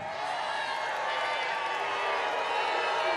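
A rally crowd in South Carolina boos Lindsey Graham at a Trump rally, a dense continuous roar of many voices that stays loud and unbroken.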